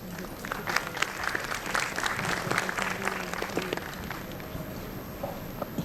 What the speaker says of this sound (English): let's give a big round of applause for Vaibhav Malpani